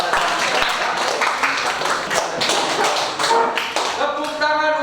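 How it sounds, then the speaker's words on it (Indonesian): A classroom of students claps for the government, rapid scattered hand claps that come in uneven bursts and then thin out, with a voice speaking near the end. "bisa tepuk tangan dulu untuk pemerintah kita pada saat ini"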